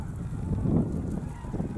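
Grey geese passing over a feeding field in eastern Germany during autumn migration give muffled honking calls at a distance over steady wind noise.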